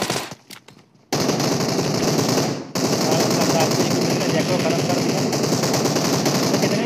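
Sustained automatic gunfire in the mobile battle-royale game PUBG Mobile rattles loudly in long, dense bursts after a brief quieter stretch, with a short break partway through.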